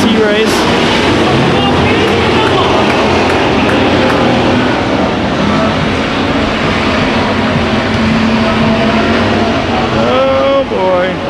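Race cars roar around the Ocean Speedway oval during a heat race, a dense, steady engine drone with shifting pitch bands filling the whole stretch, with a commentator's voice running over the top.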